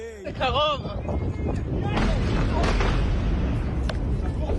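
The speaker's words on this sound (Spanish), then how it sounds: "Se escucharon decenas de explosiones en el aire" Rumbling blasts rolling through open air, one deep boom followed by a sustained, gusty roar and distant crackle, with faint voices in the background.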